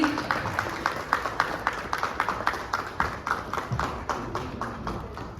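Rapid, steady applause from an audience welcoming actor Ravi Kishan at a hotel press conference, a dense run of even claps heard from a moderate distance without speech.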